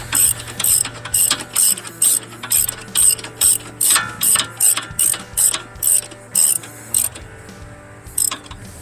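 Long wrenches joined with an extension crank a tight top bolt on a Prius front wheel bearing hub assembly, giving a loud, steady run of about twenty evenly spaced ratchet clicks, each pull a crisp metallic burst.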